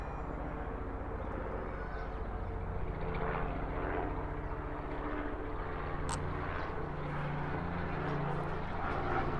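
A helicopter flying overhead, a steady low droning engine rumble that stays constant and fairly distant throughout, with no voices.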